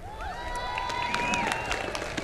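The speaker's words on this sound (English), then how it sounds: "Round of applause" Inauguration crowd applauding and cheering, a steady wash of clapping from a large audience with a few louder bursts, a voice faintly audible through it.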